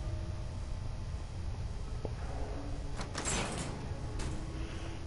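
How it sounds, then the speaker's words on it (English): A door sliding open in the video game Fallout 4, a quiet mechanical clunk followed by a brief hissing slide, over a steady low ambient hum with no talking. "Open the fucking door."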